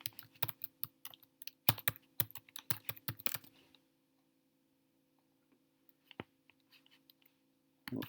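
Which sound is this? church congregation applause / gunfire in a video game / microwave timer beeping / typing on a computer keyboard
typing on a computer keyboard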